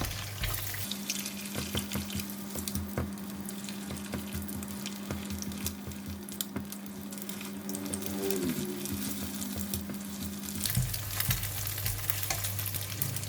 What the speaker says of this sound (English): Just put in the egg. Pinch of salt. We're gonna break the egg.